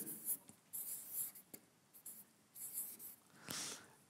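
A word written by hand, close scratchy pen or marker strokes in several separate bursts with short pauses between them, quiet and alone.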